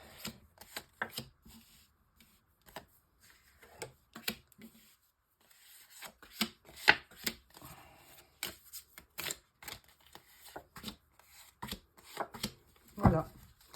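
Tarot cards are shuffled and drawn for a nine-card spread, producing soft, scattered flicks, slaps and rustles at close range with short pauses between them.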